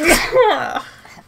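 A single loud, close sneeze during a podcast recording, a sharp burst that trails off quickly, with no other voices.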